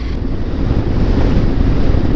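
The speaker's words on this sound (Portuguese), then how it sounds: "Começou o vento mais fortinho agora." Strong wind roars across a motorcycle ride on Argentina's Ruta 40 between Gobernador Gregores and El Chaltén, a loud, steady buffeting rush with no voices.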